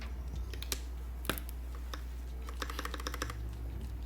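Rapid, uneven clicking of fingers typing on a computer keyboard, close and fairly crisp, with occasional louder key strikes over a steady low hum.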